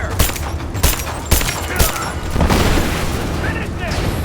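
Gunfire and explosions in Rise of the Tomb Raider: loud repeated bangs and booms over a dense, noisy battle din, with shouted voices mixed in.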